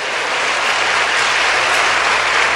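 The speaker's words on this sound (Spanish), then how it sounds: "Pues démosle un aplauso a San Miguel" A congregation at a religious talk about Saint Michael the Archangel breaks into dense, sustained applause, a loud unbroken wash of many hands clapping together.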